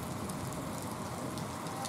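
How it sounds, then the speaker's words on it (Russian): Steady rain falls in the Ergaki mountains of the Western Sayan, a continuous soft hiss and patter that stays even throughout with no voices. "вот теперь дождик"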